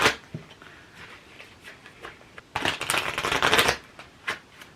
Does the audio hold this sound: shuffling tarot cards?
yes